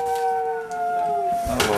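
Voices howl at a campsite at night at Wallace Falls State Park, a sustained wavering howl sliding slowly downward, followed by a brief noisy burst at the end.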